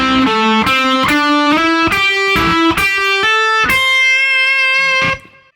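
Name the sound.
electric guitar playing a solo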